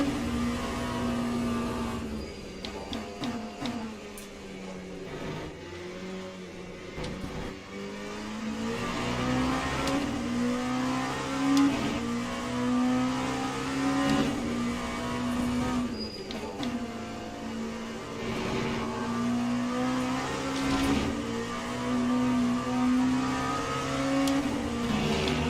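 Hypercar engines in the Le Mans Ultimate racing game, a sustained droning rev that rises and falls as cars run close by, with a car passing; no talk.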